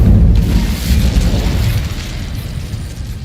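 Incendio fire spell cast in Hogwarts Legacy: a loud, dense fiery burst with a deep rumbling roar that slowly fades into a sustained hissing blaze.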